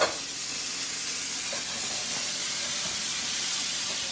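Onions cooking down in a pan give off a continuous, even sizzle and steamy hiss, close and steady throughout with no pauses or talk.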